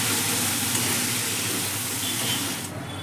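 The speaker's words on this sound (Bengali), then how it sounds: "গ্যাসের ফ্লেমটা কিন্তু এবার আমি বাড়িয়ে দিয়েছি, বাড়িয়ে দিয়ে কষিয়ে নিচ্ছি" Ginger garlic paste sautéing in a pan over a high gas flame for chicken ghee roast, giving a steady, loud, close sizzle with no talking.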